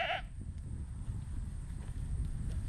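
A myotonic fainting goat on a farm lets out a single short bleat at the start, then the scene settles into quiet outdoor ambience with faint hoof clops and movement.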